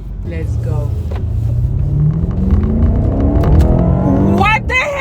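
A BMW M8 Competition Gran Coupe engine accelerates on the road, its loud rumbling note rising steadily in pitch as it revs up, with excited voices talking over it.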